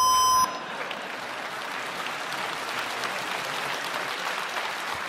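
Studio audience at a KVN comedy show breaks into dense, sustained applause for a dance, following a brief sharp beep at the start; the clapping stays steady and fairly loud to the end.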